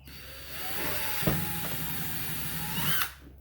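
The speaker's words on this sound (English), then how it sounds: "Maybe what we'll do is we'll start out with a small drill." A power drill with a small bit, drilling a gas can, whirs up to a steady high-pitched whine for about two and a half seconds, then spins down abruptly; loud and close.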